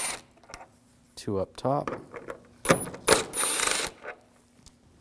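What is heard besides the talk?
removing screws with a T30 socket on a BMW 328i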